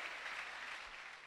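A church congregation claps for Jesus, a dense, continuous burst of many hands applauding together, moderately loud and unbroken with no speech over it.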